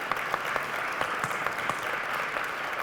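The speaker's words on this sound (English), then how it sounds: "So would you mind standing up so we can give you a round of applause" A town hall audience gives a steady round of applause, a continuous even wash of clapping heard alone from start to finish.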